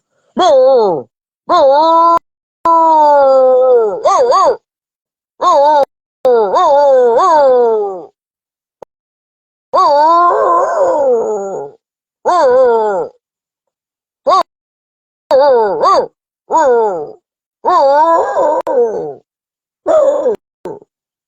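A person vocally imitating a dog with a run of loud, wavering whimpering howls and whines, separated by short silences, close and alone.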